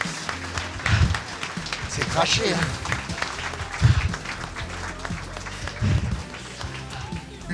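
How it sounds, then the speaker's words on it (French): Applause from an anniversary celebration audience, moderate clapping spread through the room with a few louder bursts, while a voice talks over it. "on peut l'applaudir bien fort"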